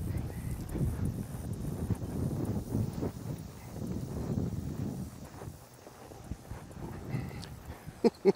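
Horse hooves clop along at an unhurried walking pace, with wind buffeting the microphone throughout and a few sharper knocks near the end.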